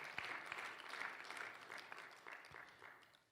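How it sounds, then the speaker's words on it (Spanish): A church congregation applauds during a sermon, a brief, fairly faint burst of dense clapping that holds steady for a few seconds. "le aplaude bien fuerte al Señor Jesús."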